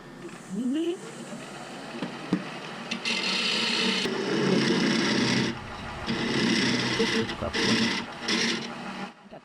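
Wood lathe hollowing a turned piece, with a rough, rasping scrape of the tool cutting in long bursts broken by brief pauses, loud and close.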